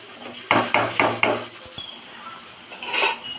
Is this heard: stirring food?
yes